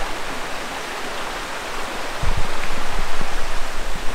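A shaded woodland waterfall pours in a steady broadband rush, slightly louder and fuller in the second half, with no voices over the constant spray.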